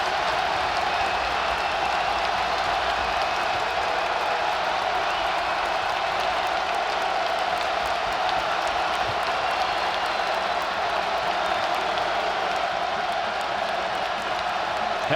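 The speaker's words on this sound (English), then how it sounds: "And here comes the crowd." A basketball arena crowd at a Wisconsin at Rutgers Big Ten men's game roars and applauds steadily, a dense, loud wall of cheering that holds throughout with no break.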